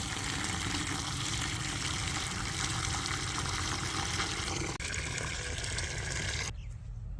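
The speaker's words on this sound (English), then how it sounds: "fill the rest of the container with rainwater or non-chlorinated water" Rainwater or non-chlorinated water pours steadily into a container of steeping plant material, a continuous close gushing fill that shifts slightly in tone, then cuts off abruptly near the end, with no talking.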